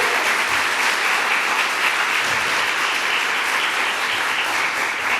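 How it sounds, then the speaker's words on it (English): Loud, dense applause from a crowd at a governor's bill-signing event for reproductive health care, a continuous, even roar of clapping throughout. "Let's give her a huge round of applause, Dr."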